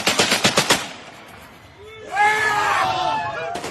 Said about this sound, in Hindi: 12 सेकंड के इस वीडियो में ये सिर्फ असॉल्ट राइफल से फायरिंग ही करता रहा